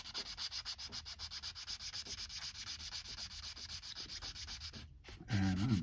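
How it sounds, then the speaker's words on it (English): Orange 280-grit pad sanding a part for a 1969 Dodge Coronet Super Bee build, near the Fireball intake manifold, in steady rapid back-and-forth strokes, close and loud, ending with a brief pause and a clatter. "We're going to smooth it down first with an orange one at 280 grit."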